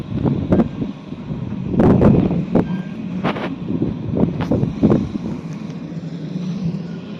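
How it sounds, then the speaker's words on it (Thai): Strong wind at a construction site in South Korea roars steadily across the microphone, with gusty buffeting bursts and a low rumble underneath, no voices. "ลมแรงมากครับ"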